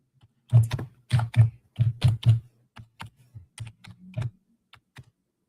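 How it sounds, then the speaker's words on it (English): Slow, uneven two-fingered typing on a computer keyboard, close and distinct clacky key taps coming in small irregular bursts with gaps between, no speech. "Two-fingered typing."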